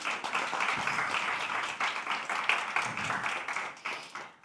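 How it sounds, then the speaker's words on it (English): A conference audience applauds an invited cancer-care speaker, a dense steady patter of many hands clapping at moderate volume, fading slightly toward the end. "Round of applause for Dr. Jennifer, please."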